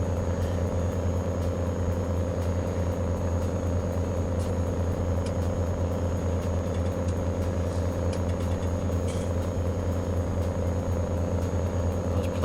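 Steady, loud tractor engine rumble in a farming video game, a continuous low drone with even idling throb that runs unbroken throughout, with no talk over it.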